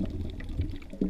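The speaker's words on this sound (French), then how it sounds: "Je fais des bulles, je fais des bruits." Bubbles gurgling underwater while snorkeling off the Surin Islands in Thailand, a short burst of low muffled bubbling pops close to the microphone.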